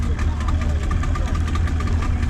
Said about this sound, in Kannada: ಇದು ನೋಡ್ರಿ ಮೋಟ್ರು, 40 HP ಮೋಟ್ರು.